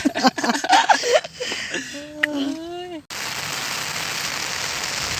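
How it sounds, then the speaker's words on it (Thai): Rain suddenly pours down as a steady hiss during a Thai fishing trip, following laughter and chatter near the start. "ตกอีกแล้ว ฝนในฝน"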